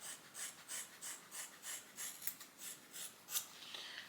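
Scissors snipping through curly hair close up, a quick steady series of about a dozen crisp cuts, quiet and alone without talk.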